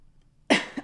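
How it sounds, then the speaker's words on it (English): A single sharp cough, close and loud, breaks a quiet pause during a podcast conversation, followed by a brief smaller throat sound. "we don't allow coughing on this podcast."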